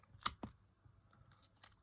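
Tape is cut for a handmade card with a few quick, faint snips, two close together and then a couple more scattered after a short pause, in a quiet room.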